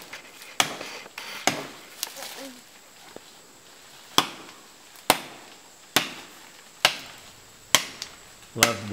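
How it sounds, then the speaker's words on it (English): Sharp machete whacks chopping through vegetation in the Amazon rainforest, about ten strikes in an irregular but steady rhythm, each a crisp close hit fading quickly, with quiet pauses between. "Love watching mom, you know, wield that machete. She's so strong and has so much precision in each whack."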